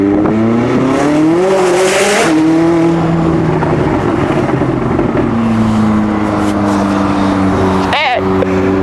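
McLaren 600LT engine roars in a tunnel with the windows down, loud sustained revving that rises and falls, echoing off the walls, with a sharp rev spike near the end.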